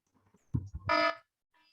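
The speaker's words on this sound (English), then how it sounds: "What is the buzzer sound?" After a few soft thumps, a single short electronic time-up buzzer sounds, bright and harsh, lasting about a third of a second before silence.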